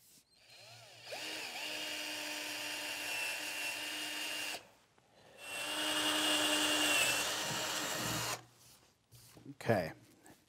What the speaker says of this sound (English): Now we can go ahead and drill these holes.